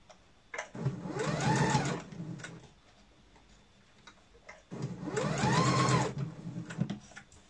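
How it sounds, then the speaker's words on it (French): A sewing machine stitches a seam along piping on a small zip pouch, running in two steady bursts separated by a quiet pause, close and clear. "Donc j'y vais tranquillement et je continue ma couture sur tout le"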